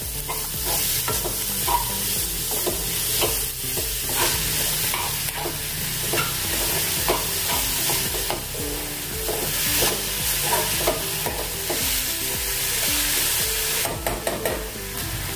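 Grated potato is stirred into appe batter in a hot pan: a loud, continuous sizzle with dense, irregular scraping and clattering of the spoon throughout, close and steady, with no voices.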